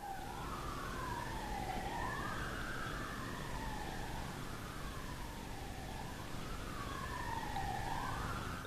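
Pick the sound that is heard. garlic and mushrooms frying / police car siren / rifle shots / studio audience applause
police car siren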